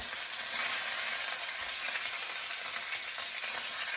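A hake fillet sizzles skin-side down in a hot pan, a steady, fairly quiet hiss of frying with no voices.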